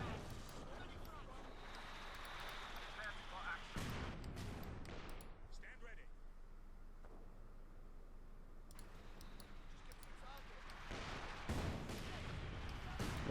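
Artillery fire in a Company of Heroes 2 match, heard as several heavy, booming shots that come in sudden bursts over a low battlefield rumble, with a commentator talking throughout.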